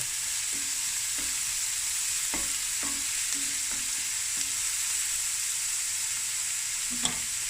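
Lamb knuckle curry with crushed chili is stirred in a pot: a steady bed of sizzling runs throughout, broken by about a dozen short scraping strokes of a spoon against the pan, all close and alone with no talking.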